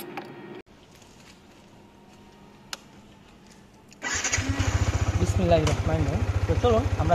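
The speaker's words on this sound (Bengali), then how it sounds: "তো এখন বাইকটি আমরা স্টার্ট করব।" A motorcycle on a city street at night cranks and fires up about two-thirds through after a quiet pause, then settles into a loud, close, steady idle with a rapid even thump.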